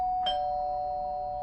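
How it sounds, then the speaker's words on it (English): A doorbell chime rings once and its tone lingers and slowly fades, heard clearly in an otherwise quiet room. "until she is met with the doorbell"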